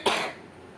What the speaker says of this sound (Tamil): பயங்கரமாக இருமல்